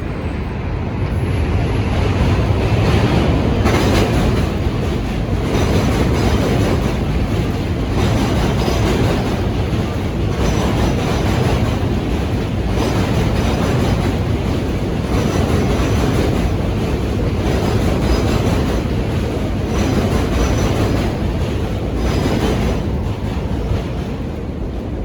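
A train rolls past nearby, a continuous loud rumble and clatter of rail cars that holds steady for the whole stretch, with no voices.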